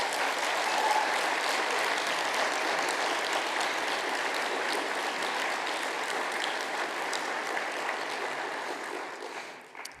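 A keynote audience gives another round of applause for the speaker, dense, even clapping from a large crowd that holds steady at moderate volume and fades out at the very end.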